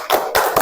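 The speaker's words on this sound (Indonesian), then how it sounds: "Oke, silakan tepuk tangan." Children in a classroom break into three short bursts of hand clapping, each fairly loud and close, separated by brief gaps, with no talking over them.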